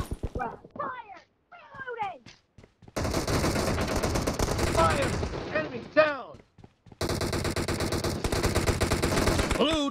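Rapid automatic gunfire in the mobile battle royale game PUBG Mobile, coming in two long, loud, dense bursts with short gaps between them. Clipped game voice callouts and brief synthetic blips come before and between the bursts.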